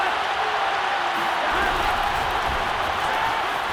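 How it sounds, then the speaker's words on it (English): A stadium crowd in the American football video game Madden NFL 22 roars steadily ahead of a big third down, a dense, loud, continuous wash of cheering with no breaks. "The crowd getting into it as we come up on a big 3rd down."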